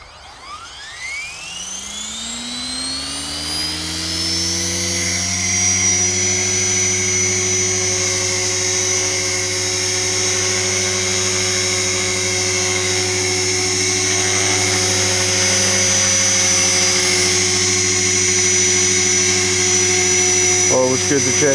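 An Align T-Rex 470LP RC model helicopter spools up from a rising whine into a steady, loud high-pitched rotor and motor hum that holds evenly in a gentle hover, close by.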